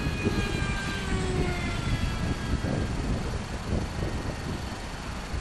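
Mini Viper RC jet flying in to land, a loud continuous whooshing engine roar with whining tones that slowly fall in pitch as it passes nearby.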